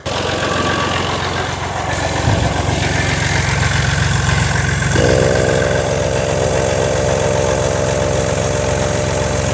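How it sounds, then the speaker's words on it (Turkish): Compressor motor running on a 1972 tractor, a steady loud engine drone with a rough low rumble. A higher whining tone joins halfway through and continues to the end. "Şu an kompresörün motor çalıştı"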